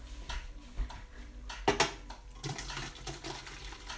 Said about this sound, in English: I hear it draining.